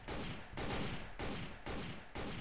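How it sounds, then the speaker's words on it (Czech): Sustained bursts of rapid gunfire in the video game Sneak Thief, in five long blocks separated by brief gaps, loud and dense, with no voices. "Mě by zajímalo, odkud střílí."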